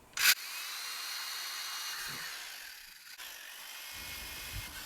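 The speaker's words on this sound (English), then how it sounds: "You only need to apply a little bit of pressure so that the drill will go into the plastic." A power drill whirs steadily into a plastic bucket after a brief sharp burst, the motor's high whine holding for several seconds, then easing off.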